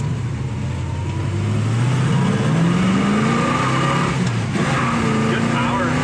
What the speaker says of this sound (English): I'm just going to do a rolling start just for the fresh motor.